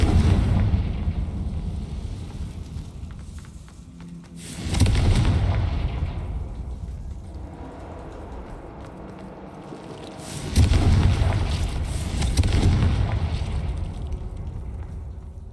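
Confringo spell explosions in Hogwarts Legacy, two heavy booming blasts a few seconds apart, each with a long rumbling decay over a continuous low background.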